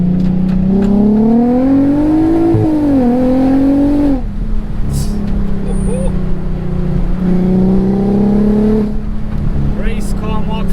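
A VW Golf R32 swapped with a 3.6L R36 engine revs in two rising and falling blips, then a deep steady idle, with brief sharp exhaust pops and a mechanical whir.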